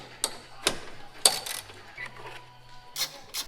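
Torx bit on a ratchet removing an exhaust bracket on a Lamborghini Huracan, a few quiet metallic clicks and ratcheting ticks spaced irregularly, close and faint.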